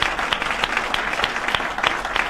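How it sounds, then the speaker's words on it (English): Audience applause at a chamber of commerce candidates night, honoring the board of directors and government affairs committee; steady dense clapping from a room of people throughout, fairly close and even in loudness. "I just want to give them a big round of applause for putting this together."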